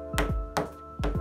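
Three evenly spaced soft knocks as a spatula lays texture onto a taped-off mixed media panel, close and dull, each a brief thud.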